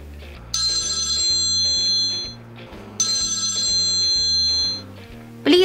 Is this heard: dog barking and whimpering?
no